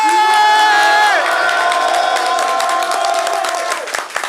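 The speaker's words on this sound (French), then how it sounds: "Un tonnerre d'applaudissements pour Kilou s'il vous plaît." A loud crowd cheers and whoops with sustained shouting voices, applause crackling through as the roar slowly fades at the end.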